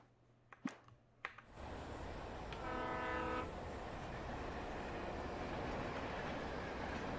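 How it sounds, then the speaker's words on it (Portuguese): A train rumbles past with a loud, sustained blast of its horn in the video game Alan Wake, preceded by a few sharp clicks, then a steady, heavy roar of rolling wagons continues to the end. "Olha o comboio."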